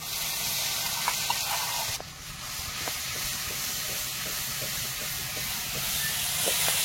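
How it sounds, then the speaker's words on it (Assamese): Crushed onion, ginger and garlic sizzle in hot oil for a rustic village-style fish dish, a steady loud hiss and crackle that swells sharply after a couple of seconds and keeps going without pause. "একেখিনি তেলতে এতিয়া মই খুন্দি লোৱা পিঁয়াজ, আদা, নহৰু গোটেইখিনি দি দিম"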